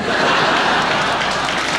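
Studio audience applause on a late-night television talk show, a dense steady wash of many hands clapping at full volume, with no talk over it.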